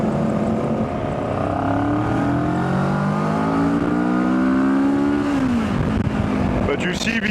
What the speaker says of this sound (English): But you see this acceleration, like that's the characteristic of the Kawasaki 650 engine.